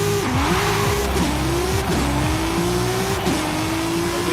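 Audi RS 5 engine in Forza Horizon 5, loud revving acceleration with repeated sharp gear shifts as the pitch climbs and drops, alongside tire noise and no speech.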